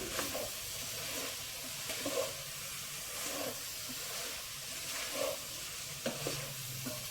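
Soft sizzling of mushrooms and mixed vegetables frying in a pan, with occasional stirring scrapes and clinks over a steady low hiss.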